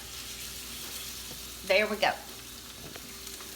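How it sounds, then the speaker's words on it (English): Soft frying sizzle in a pan, with a short burst of speech over it midway. "Do you hear that sizzling?"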